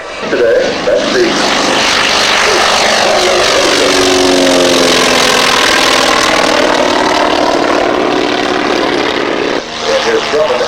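A Grumman AA-1A light aircraft passes during an air race, its propeller engine a loud sustained drone that swells and shifts in pitch as it flies by, with a commentator's voice over it.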